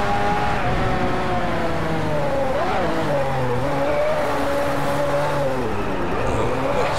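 A Lamborghini Aventador LP720-4 50° Anniversario drives in the racing game Driveclub, its engine a loud, steady drone with gear-shift dips and tire noise throughout.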